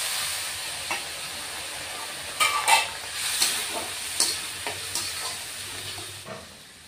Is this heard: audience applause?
no